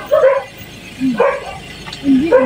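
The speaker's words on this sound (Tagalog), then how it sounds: "Ayan na po yung mga aso nila." Dogs at a beach resort in Mabini, Batangas bark and yip in three short bursts spaced about a second apart, fairly close, with faint background noise.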